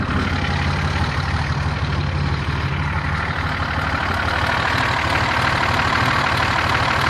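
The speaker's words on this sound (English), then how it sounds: "it's low idle. It's a little bit, it runs a little rough." A 1974 Datsun 260Z with a slight exhaust leak idles low and rough, a steady, close, continuous engine rumble and hiss that holds at an even level throughout, with no talk.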